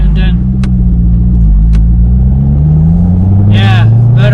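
A C6 Corvette engine drones steadily while accelerating in second gear, the loud in-cabin hum rising gradually in pitch, with a few brief sharp pops and a voice talking over it.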